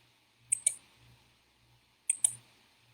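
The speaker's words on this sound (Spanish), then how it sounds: "y nuevamente le da clic en presentar." A computer mouse clicking during an online class presentation: two quick pairs of sharp, close clicks about a second and a half apart, with quiet gaps and no talk.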